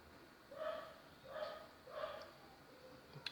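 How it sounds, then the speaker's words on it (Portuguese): A dog barks three times in the background, faint and distant, at a steady pace with short pauses between barks inside a quiet house. "Cachorro que late,"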